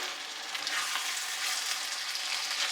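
Ground beef mixture frying in a pan while being stirred, giving a steady, dense sizzle that stays even and close throughout, with no talking.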